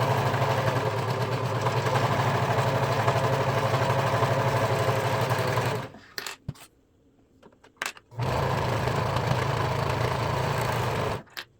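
A serger or sewing machine stitches the sleeves of a boho ruffle top, running in two long steady bursts with a short pause between them and stopping at the end.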